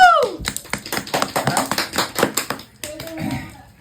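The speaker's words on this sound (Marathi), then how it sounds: "तर क्या बात आहे, टाळ्या." A family group claps together at a New Year party in Gulbarga, a quick burst of close, rhythmic hand claps lasting a couple of seconds, with voices, including a child's, chattering around and after it.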